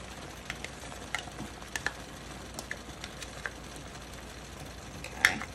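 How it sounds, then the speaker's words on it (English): A spoon stirs hamburger stroganoff sauce with sour cream as it boils on high heat, giving soft, faint bubbling and sizzling with scattered light scrapes and taps against the pan, and one louder clink near the end. "I've been boiling this on high and stirring it while I'm boiling it."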